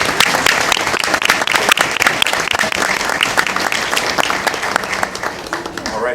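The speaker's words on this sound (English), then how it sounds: "Round of applause to her." A school board meeting crowd applauds continuously, a dense patter of many hands clapping at full volume, tapering slightly at the end.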